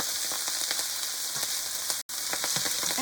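Garlic, meat and broccoli stir-fried in oil at high heat, a constant bright sizzle with repeated scraping strokes from stirring and a brief dropout midway.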